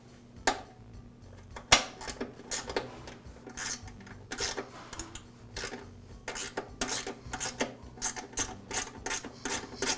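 A ratchet clicks in uneven bursts, removing two bolts from the underside of a Toro lawn mower deck to free the cover bracket, with light metallic clinks, close and quiet.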